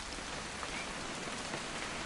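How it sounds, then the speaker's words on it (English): Steady rain patters on a surface, a dense even hiss of drops continuing throughout with no voices. "It's gonna rain the whole weekend, isn't it?"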